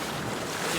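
Seawater surges and washes around people bathing in the ocean on a remote island, a dense, close, continuous rush of waves and wind with no talk.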